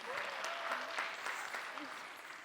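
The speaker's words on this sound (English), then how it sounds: "let's give a round of applause to Raji" Audience applause at a Kathak dance recital, steady clapping filling a hall at moderate volume, with a few voices faintly audible underneath.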